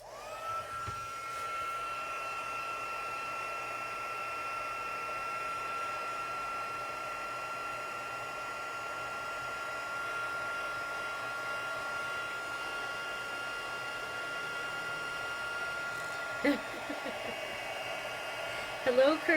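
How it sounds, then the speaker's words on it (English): A heat tool melts black embossing powder on a crafted flower card, blowing a steady, even whoosh like a hair dryer for the whole stretch, with a few small handling noises near the end. "bring in my heat tool"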